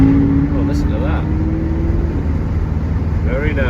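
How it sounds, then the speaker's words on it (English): An Audi V10 car rumbles past on a road, a low engine drone sweeping by nearby, while a voice speaks over the passing traffic. "An Audi V10 has just gone past."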